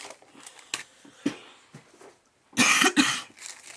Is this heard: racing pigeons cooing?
no